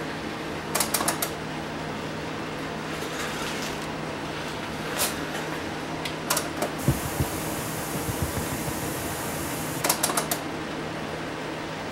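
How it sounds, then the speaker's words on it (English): Panasonic SA-PM27 cassette deck attempting to play a tape, giving a faint, steady mechanical whir with scattered clicks and clunks from the transport mechanism, one sharper thunk partway through. "Let's try a tape in it and see whether it will play a tape on these."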